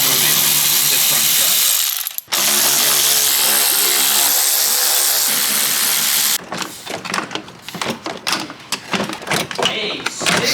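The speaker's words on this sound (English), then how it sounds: "I'm gonna go ahead and take the next 10 minutes on removing all of these fender liner bolts" A hand ratchet works fender liner bolts loose on a G82 BMW M4 Competition during a front-end teardown, clicking in a loud, continuous close rasp, then breaking into short irregular bursts of quick clicks with brief pauses.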